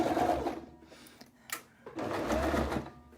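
A sewing machine stitches a curved seam on a tailor's ham project in two short whirring runs, with a pause between them for the needle to be set and the fabric lifted and pivoted.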